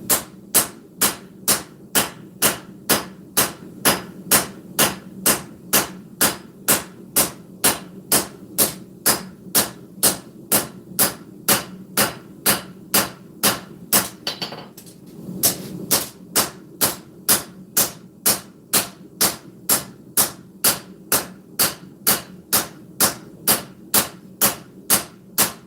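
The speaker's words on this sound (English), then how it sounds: "I'm going to come across it with the cross peen and start moving everything back in line" Cross peen hammer forging a sword blade on an anvil, sharp ringing metallic strikes in a steady, even rhythm of roughly two blows per second, close and prominent, with one brief pause midway.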